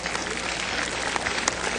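A short burst of dense applause from a roomful of people at the Clinton Presidential Library topping out ceremony, steady and fairly loud throughout.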